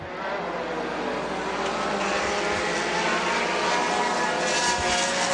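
Several race car engines roar steadily at Dixie Speedway during a Stinger championship event, a loud, continuous engine drone holding for the whole stretch with no talk over it.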